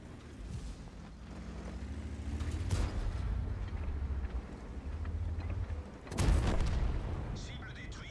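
Tank cannon shots in a World of Tanks-style ranked battle, with an AMX 13 105 light tank involved, booming over a continuous engine rumble; a loud blast lands near the middle and another heavy boom follows later.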